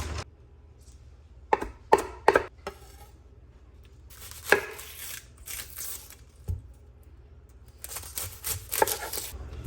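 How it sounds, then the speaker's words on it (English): Knife chopping spinach on a cutting board, a series of sharp, irregular cuts in quick bursts with short pauses between them, close and clear over a quiet background. "I'm going to chop all of this spinach up"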